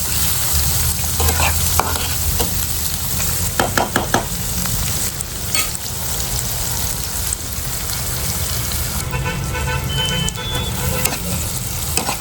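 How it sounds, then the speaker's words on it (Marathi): Tomato and garlic frying until caramelized, a steady loud sizzle with intermittent scraping stirs and clicks from a spoon against the pan, continuous throughout with no voices. "टोमॅटो लसूण एकदम कॅरेमल झालेलं"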